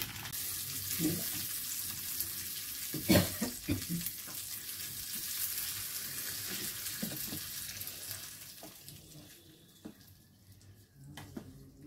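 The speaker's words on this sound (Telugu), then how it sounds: "ఇప్పుడు కరివేపాకు వేసుకొని వేయించుకొని" Curry leaves sputter and crackle in hot oil for a peanut chutney tempering, with a burst of sharp pops early on settling into a quieter steady sizzle.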